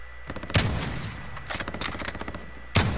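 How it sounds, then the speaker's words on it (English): Gunfire in the video game Call of Duty Modern Warfare battle royale: bursts of rapid automatic shots with sharp cracks, loud and close, separated by brief pauses of quieter ambient sound. "I'm being shot at."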